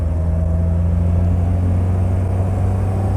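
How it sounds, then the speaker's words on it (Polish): A Polonez car's engine pulls in third gear at close to 3000 rpm, a steady, loud low-pitched drone with a rumbling hum as the car gathers speed sluggishly. "i samochód się rozpędza, ale no, robi to z takim oporem."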